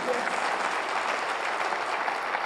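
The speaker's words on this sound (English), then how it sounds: "Clap for yourself because you're the best teachers in the world." A hall full of teachers at a regional school conference applauds, a dense, steady wash of clapping that stays loud and even for the whole stretch with no voices over it.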